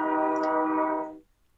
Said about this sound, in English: It's a good sounding train. It's got a good horn on it.